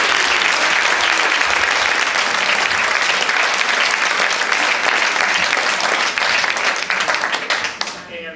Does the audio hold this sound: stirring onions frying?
no